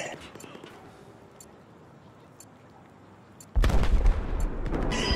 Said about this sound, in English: With the SAR, you tend to get that one burst pretty often.